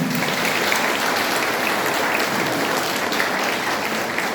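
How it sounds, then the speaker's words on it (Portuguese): A church congregation at a Thanksgiving Mass in a chapel applauding, dense, steady clapping from many hands that fills the space evenly and continuously, loud and sustained throughout with no break. "Uma salva de palmas para todas as comunidades."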